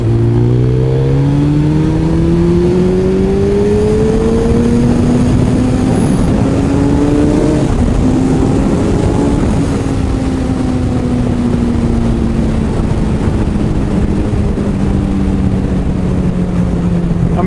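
A 2008 Suzuki Hayabusa motorcycle accelerating hard, loud and close, its engine pitch climbing through successive gear changes with brief dips, then settling into a high sustained roar.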